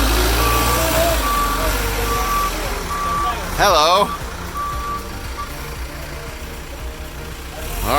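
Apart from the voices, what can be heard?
tractor trailer truck reversing beeps and engine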